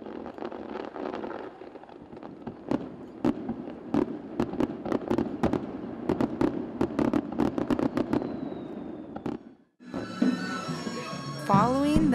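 Over 10,000 fireworks at the Hita Gion festival boom across the river valley of Hita at night, a dense run of sharp, loud bursts at irregular intervals with crackling between, then a brief lull and more bursts with whistling.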